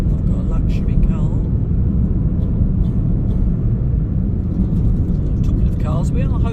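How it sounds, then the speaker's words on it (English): Steady low roar of a modest, non-luxury car engine and road noise heard from inside the cabin while driving, loud and constant throughout, with faint voice fragments in the background. "Sorry if you can hear the roar of my car in the background."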